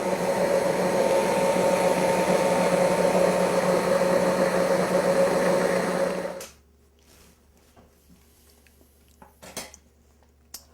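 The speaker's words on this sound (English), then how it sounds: "Now we're just going to blend it so it's nice and smooth with an immersion blender." An immersion blender whirs steadily through a pot of chestnut soup, a loud continuous motor drone that cuts off abruptly, leaving a few faint clinks and quiet kitchen noise.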